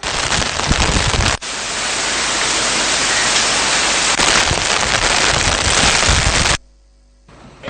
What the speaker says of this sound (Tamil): யாழ் மாவட்டத்திலும் இன்று கடும் மழை பெய்து வருவதாக எமது செய்தியாளர்கள் தெரிவித்தனர்